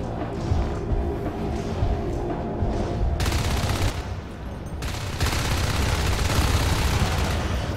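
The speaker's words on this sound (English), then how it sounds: "Red Tat trying to very hard matrix dodge some of those bullets, but fails, dies." Marines' automatic gunfire in a real-time strategy video game, sustained loud bursts of rapid shots with short pauses between them, close and continuous.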